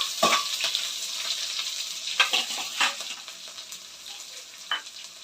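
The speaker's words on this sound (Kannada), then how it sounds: "ಜೀರಿಗೆ ಹಾಕ್ತಿದ್ದಂಗೆ ನೀವು ಬೆಳ್ಳುಳ್ಳಿನ ಹಾಕಬೇಕಾಗುತ್ತೆ" Garlic and cumin fry in oil in a pan for tomato rice, a soft continuous sizzle with scattered scraping stir strokes and light clinks of a utensil against the pan, heard close.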